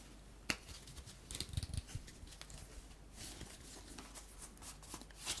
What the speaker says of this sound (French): Et nous allons mettre les 3 cartes ici.